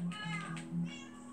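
A Minecraft cat gives a short, faint meow, one brief tonal call over a quiet, steady background hum.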